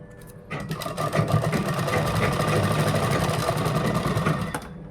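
Close and steady, a sewing machine runs continuously for several seconds as it stitches a kurta shoulder seam, with a dense mechanical whir and no speech over it.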